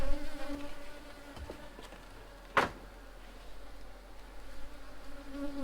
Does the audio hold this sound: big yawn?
no